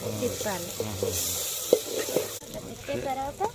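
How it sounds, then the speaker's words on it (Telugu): Raw papaya curry with ginger and garlic, cooked tribal style, is stirred in a pan, with scraping and steady sizzling close up while people talk over it. "బొప్పాస్కాయ కూర వేసిన తర్వాత ఇలా తిప్పాలి"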